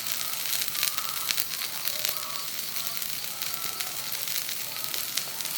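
Dosa batter spread over a hot pan for mini masala dosa hisses in a loud, continuous crackling sizzle with scattered pops, heard close up and without speech.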